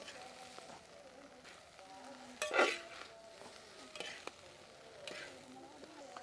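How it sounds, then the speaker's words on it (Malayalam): Egg and rice stirred together in a hot pan, a faint low sizzle with occasional scraping and one louder clatter of the utensil, quiet and close. "ചോറും മുട്ടയും എല്ലാം കൂടെ ഒന്ന് മിക്സ് ആവണം."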